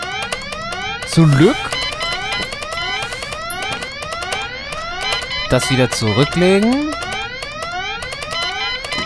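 An alarm siren in the video game Goodbye Deponia wails loudly in rapid repeating rising sweeps for the whole span, while someone talks over it.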